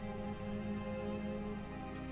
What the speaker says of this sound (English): Also, it's raining again.